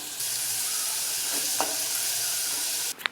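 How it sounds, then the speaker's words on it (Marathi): Finely chopped onion fries in a pan while browning for a village-style amti, making a continuous loud, even sizzle that cuts off abruptly near the end, followed by a couple of faint clinks. "एक कांदा बारीक कापून घेतलेला आहे आता हा ब्राउनिश कलरवर भाजून घेऊयात"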